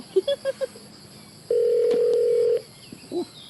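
A telephone sounds in a Thai comedy sketch: a few short beeps like dialing tones, then one long steady tone lasting about a second, loud and clear over a quiet background.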